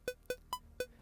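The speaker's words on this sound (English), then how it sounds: "Beeps will sound like this." Cubase's default metronome beeps sound four times, evenly spaced short electronic tones; the third beep is higher in pitch than the others, all clean and alone with no talking.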